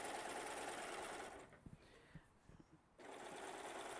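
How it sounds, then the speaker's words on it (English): Serger stitching the shoulder seams of a blouse, a steady fast whirring hum that stops briefly with a few soft clicks before starting up again, close and fairly quiet. "I'm serging the shoulder seams together"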